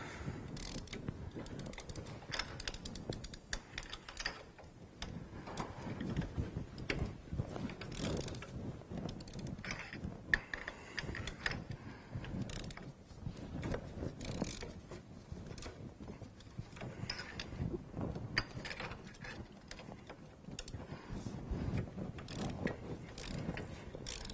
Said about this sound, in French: Avec la clé à bougie, je la mets à l'intérieur et je desserre